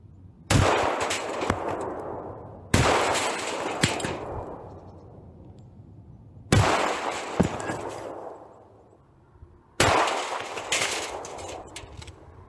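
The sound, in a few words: shotgun firing Score 00 buckshot and slugs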